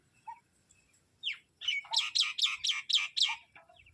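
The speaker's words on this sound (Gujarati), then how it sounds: "તો ફ્રેન્ડ્સ ઉપર પક્ષીઓ પણ એવા મસ્ત બોલે ને" Birds in trees singing: a few scattered chirps, then a rising run of bright, rapid repeated notes in a quick even series, moderately close and clear over quiet background.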